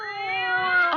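A cat gives one close, clear meow lasting about a second, rising slightly and ending with a brief upward catch, alone without talk.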